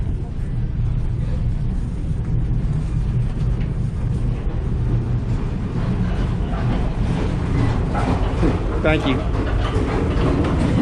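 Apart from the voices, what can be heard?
Alaska Railroad passenger train riding on the tracks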